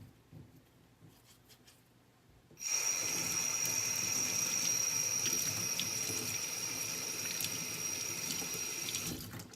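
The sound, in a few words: hot water rinsing bolts in a sink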